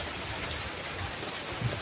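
Rain falling steadily on a hot day in rural Sambalpur, a brief even hiss of drops with no speech.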